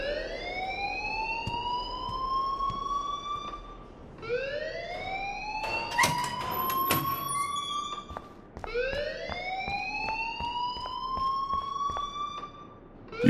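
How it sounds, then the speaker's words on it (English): A school alarm in Life is Strange wails in repeated rising sweeps, three long cycles with a sharp metallic clatter in the middle, loud and alone without voices. "please turn off that alarm since that's your job"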